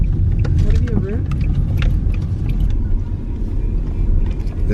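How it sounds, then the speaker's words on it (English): Inside a car driving on a dirt road at night, a continuous low rumble of the tyres and engine fills the cabin, with faint muffled voices underneath. "Driving your car that's not equipped for these roads on basically just dirt."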